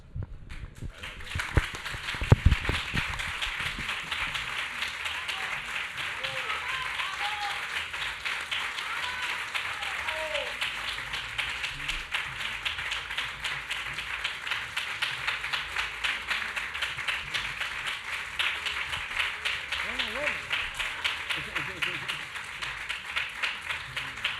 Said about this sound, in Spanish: Tras este entusiasta y merecido aplauso